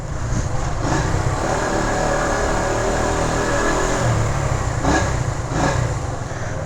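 A 1972 Honda SL100 motorcycle rides at about 20 mph indoors in a museum, its small engine giving a steady, loud, buzzing drone with slight surges and no talk.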